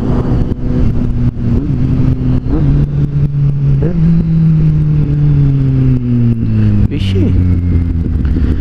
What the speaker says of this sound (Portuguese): Às vezes eu acho que essa moto tem umas 300 marchas. Eu tô reduzida, reduzida, reduzida e não acaba a marcha.